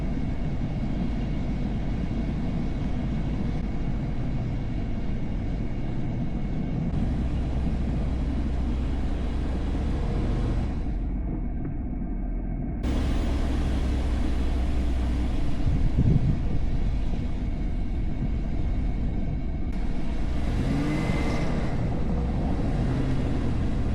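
A 4x4 van travels a gravel back road in winter, a steady close-up rumble of engine and tire noise, with a brief quieter dip midway before the drive continues.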